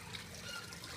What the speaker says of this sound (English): So it's not the fastest siphon to cut out, but there it goes.